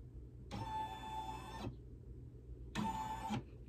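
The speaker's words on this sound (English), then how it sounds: "I'm going to hit the tracer here. It's going to show me where that's going to stitch out." Two steady whirring bursts from an embroidery machine moving its hoop to trace the outline of a monogram design on a hand towel, with a quiet pause between them.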